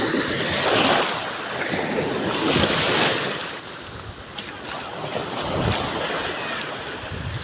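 Sea waves wash ashore at Aroma Beach Resort in Naic, Cavite, a continuous surging hiss of surf mixed with heavy wind buffeting the microphone, steady and fairly loud.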